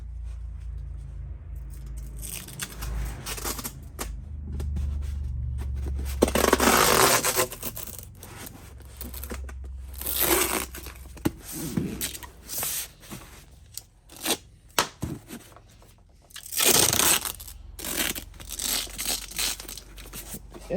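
Packing tape ripped and stretched across a cardboard box holding a Honda B-series VTEC cylinder head for shipping, with repeated tearing screeches and crinkling bursts, close and fairly loud, no talking.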